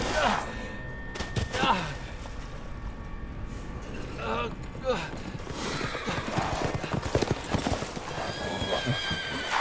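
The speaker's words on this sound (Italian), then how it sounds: "Addirittura a cavallo vanno." Horses trot and neigh in the video game Resident Evil Village, with clip-clopping hooves and whinnies mixed under game sound, while people talk throughout.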